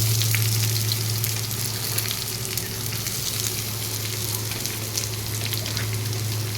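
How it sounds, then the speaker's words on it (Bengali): Chopped onion fries in hot oil with ginger and garlic for egg chowmein, giving a steady, close, even sizzle with no pauses and no talk. "পেঁয়াজটাকে আমি একটু ভালো করে ভেজে নেব"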